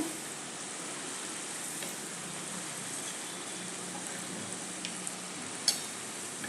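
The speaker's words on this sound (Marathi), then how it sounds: "भजी घालेपर्यंत फक्त गॅस आपण मोठा ठेवून घालायचे आहे भजी परतून घेऊया" Moong dal fritters (bhaji) frying in hot oil over high heat, a steady broadband sizzle running evenly throughout with a few brief crackles and no talk.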